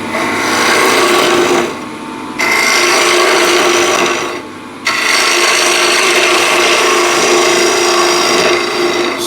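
A ball gouge cuts wood spinning on a lathe, making a loud, continuous rasping shave that breaks off twice for a moment before resuming.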